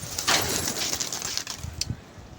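Pigeons of the Karachi gola breed bursting into flight, a broadband rush of flapping wings at close range followed by a few softer flutters, with no talking.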